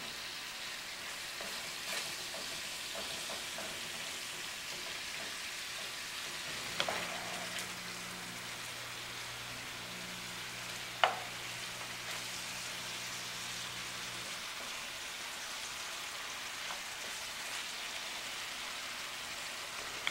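Ground meat browning in a pan for a meat lovers pull-apart bread, a faint, steady sizzle in a quiet kitchen with a brief low hum and a single sharp clink partway through.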